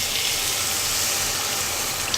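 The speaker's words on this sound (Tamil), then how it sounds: "நல்லா மிக்ஸ் பண்ணிவிட்டு தண்ணி வந்து சேர்த்துக்கலாம்." Water poured into chicken kuzhambu, a Tamil chicken curry, cooking in a pan: a steady, bright, hissing rush that runs unbroken for a couple of seconds.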